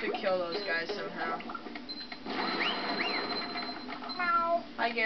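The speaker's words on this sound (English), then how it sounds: "Meow. Hi, Gary." Gary the snail from the SpongeBob Battle for Bikini Bottom video game meows briefly amid busy game music, effects and character voices, with speech over much of it.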